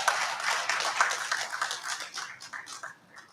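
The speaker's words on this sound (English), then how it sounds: "For that, I deserve a hand clap." An audience at an electricity symposium claps for a debate speaker. The clapping is a dense burst of many hands that thins and fades toward the end.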